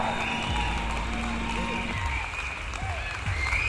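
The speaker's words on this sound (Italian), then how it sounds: "Un applauso per il re Leonzio." An audience gives steady, dense applause for King Leonzio in an Italian comedy scene, a continuous wash of clapping with faint tonal sounds running underneath.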